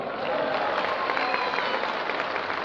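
An audience applauds at a live stage show, with dense, steady clapping that fills the whole stretch at an even level and never pauses.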